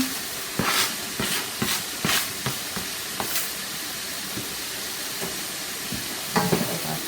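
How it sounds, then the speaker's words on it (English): Fried rice with chopped green onion being stirred in a pot, giving a steady sizzling hiss broken by repeated scraping strokes of the spoon, close and alone without talk. "Give our pot a stir."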